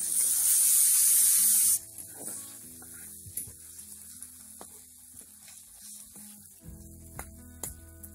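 Onion frying in a pan on a wood-fired clay stove, with a loud steady sizzle at the start that quickly drops to a faint crackle beneath scattered clinks and kitchen noises.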